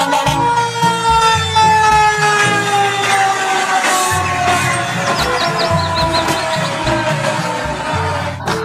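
A toy fire truck's wailing siren sweeps up and down steadily and loudly throughout, with rhythmic toy-like tones underneath and a few chirpy beeps midway.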